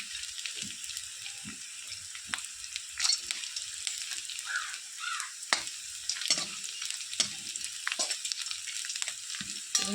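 Peanuts and green chilies frying in a pan for kanda poha, a soft continuous sizzle with scattered scraping stirs and light clinks, close and without talk.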